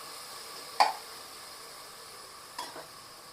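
Salted onions cook in a pan for a sea bass fish biryani, giving a faint, steady sizzle broken by two sharp clinks of a spoon or lid against the pan.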